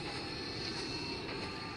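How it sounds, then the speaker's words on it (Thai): An airplane flying overhead on a dusty trip, a continuous, fairly faint roaring drone with a broad, even texture and no clear change in level. "อะไรเครื่องบินอีกอ่ะ"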